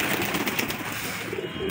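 Pet pigeons coo softly and steadily at close range over a dense, continuous background hiss, with no clear voices.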